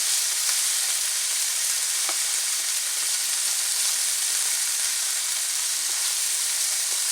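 Goose pieces stir-fry and brown in a pan on an electric stove, giving an even, dense hiss of sizzling up close. A couple of light clicks come through and nobody talks.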